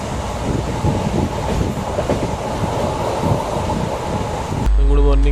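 A passenger train rumbles and rattles steadily from inside the carriage on a Konkan route, a loud continuous clatter of wheels and car body that cuts off abruptly near the end.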